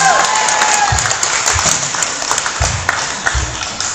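Church congregation applauding, a brief scattered burst of clapping that swells and thins over a few seconds, fairly close.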